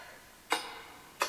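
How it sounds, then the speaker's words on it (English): Two faint, short tambourine hits from the game Animal Crossing New Horizons, each a crisp jingling shake, spaced about seven tenths of a second apart against quiet background hiss. "Then I just took the tambourine and did this with it."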